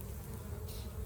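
Honeybees buzz around hive frames heavy with honey during extraction, a steady low insect drone that holds throughout at moderate volume with no talk.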